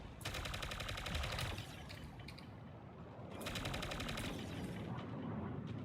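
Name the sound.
Berserker 16 gun firing in a video game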